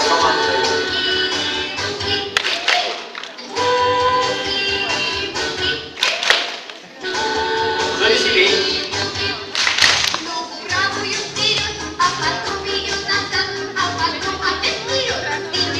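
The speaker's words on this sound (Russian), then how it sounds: "ладоши тоже могут хлопать, когда там команда дает." Hands clap in rhythmic bursts during a boogie-woogie dance routine, sharp claps repeating over music with voices mixed in.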